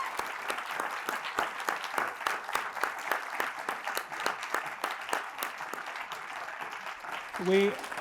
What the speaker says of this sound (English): Let's give the governor a rowdy round of applause.